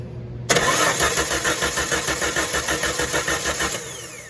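A car engine cranks over as the ignition key is turned, catching after a half-second pause into a rhythmic chugging starter whir that runs several seconds before cutting off, close and loud with no speech.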